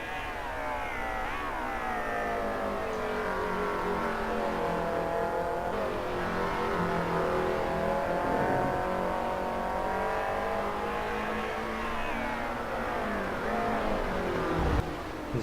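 Mercedes-Benz race cars roar around Imola in Assetto Corsa, several engines overlapping in a steady, loud drone of revs rising and falling with gear changes, with no voices heard.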